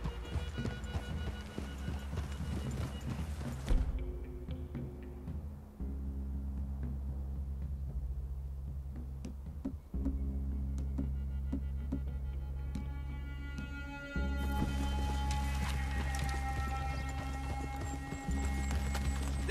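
Horses clip-clop at a walk in Red Dead Redemption 2, a steady hoof rhythm over a low ambient hum that shifts in level partway through, with no talk over it.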